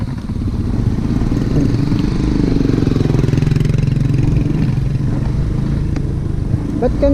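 A motorcycle engine runs with a loud, close, pulsing chug and a slight rise and fall in revs, and background sounds come through near the end.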